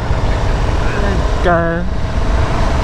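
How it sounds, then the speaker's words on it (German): A 2021 KTM Super Duke R two-cylinder motorcycle running steadily with a low, continuous drone heard from the rider's seat, while a voice speaks briefly over it. "man sitzt halt auf dem Bike, das halt viel ruhiger läuft, die Super Duke. Zwei Zylinder halt"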